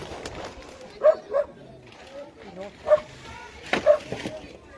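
A scared dog at a hoarder's property whimpers in a few short high whines, spaced apart and moderately close, over a low murmur of background noise.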